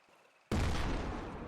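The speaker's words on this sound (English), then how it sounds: "This cannon fires very fast." A light tank's cannon in Garry's Mod fires a shell: one sudden, loud blast after a near-silent moment, then a heavy rumbling tail that fades slowly.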